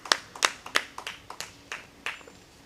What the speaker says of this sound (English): Give a round of applause for Erie Crawford Central Labor Council.